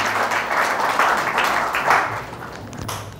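A church congregation at Sunday worship claps together in a brief, steady burst of applause that carries throughout and slowly fades near the end.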